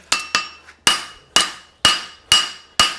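A hammer flattens the toe of a horseshoe during forging, striking the metal about seven times in a brisk, fairly even rhythm. Each blow is a sharp, loud ringing clang that decays between hits.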